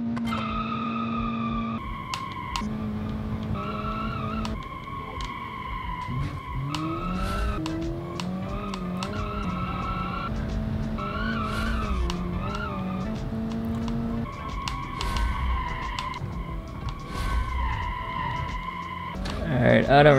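A car in the BeamNG driving game squeals its tires in long sustained skids and spins out, engine tones rising and falling throughout.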